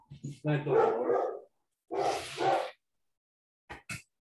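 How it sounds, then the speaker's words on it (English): A dog barks in a few loud bursts, then two short sharp yaps after a pause, heard during a poker strategy session with talk around it. "Do you guys hear a dog?"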